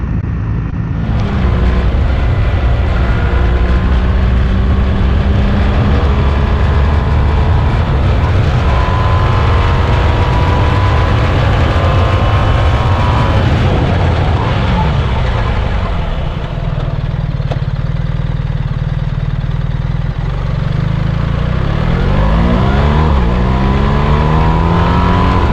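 BMW R1300R boxer-engine motorcycle accelerating hard, its loud engine note climbing through gears with rising pitch sweeps and a shift dip midway, close and continuous over wind rush.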